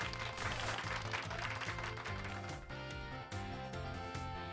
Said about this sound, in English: Give Pikachu a round of applause, everybody.